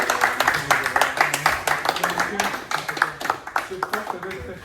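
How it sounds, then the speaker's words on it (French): Audience clapping at a French event, fairly rhythmic, moderate claps from a small crowd, mixed with voices and crowd noise throughout. "je voulais vraiment qu'on l'applaudisse"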